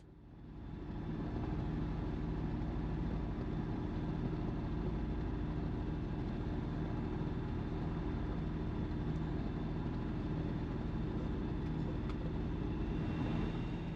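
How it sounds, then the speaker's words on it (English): A gyrocopter taxiing for takeoff on an airfield runway, a steady low engine drone that rises at the start and then holds constant, heard from a distance with no talk. "There's the gyrocopter taxiing for runway"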